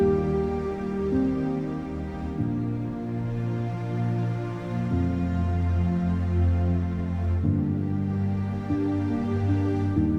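Epic orchestral soundtrack composed in Cubase: sustained layered strings with slow chord changes, backed by piano, full and even throughout.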